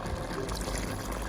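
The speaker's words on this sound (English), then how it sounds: "so I'm going to throw a little water on it" Water being poured into a cooking pot of stew peas with chicken neck and foot, a steady close trickle and splash under low kitchen background noise.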